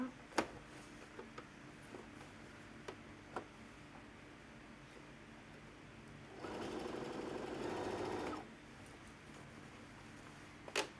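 A sewing machine stitches fabric for a large teacher bag, running in one steady, quiet burst of about two seconds between scattered soft ticks and clicks in a hushed room.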